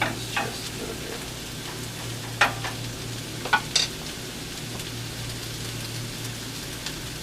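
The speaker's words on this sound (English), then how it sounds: "These are looking really good. Saute these just a little bit." Mushrooms sautéing in a pan for mushroom risotto, a soft continuous sizzle under a low steady hum, broken by a few sharp clicks of a utensil against the pan.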